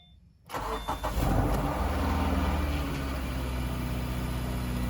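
A 2018 Subaru Forester with a newly replaced catalytic converter cranks briefly after a moment of quiet, catches and settles into a steady, loud idle with a broad rumble, up close and without speech.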